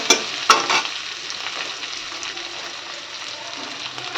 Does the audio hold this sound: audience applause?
no